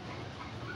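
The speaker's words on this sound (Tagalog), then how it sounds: "Mga tuta." Puppies giving soft, brief whimpers and little yips, faint and close, over a low background hum.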